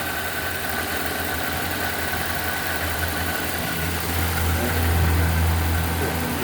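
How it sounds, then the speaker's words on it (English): A 2007 Nissan Y11 Wingroad with a QG15DE engine suffering rich running and a fast idle: a steady close engine hum that swells into a heavier, louder rev toward the end before settling slightly. "now we'll try a throttle reload and see"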